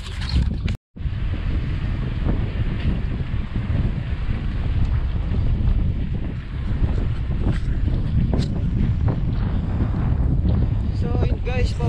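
Strong wind buffets the microphone on a holiday mountain bike ride near Patubig, a loud continuous roar and rumble that dominates throughout, with a brief dropout near the start and occasional faint voice underneath.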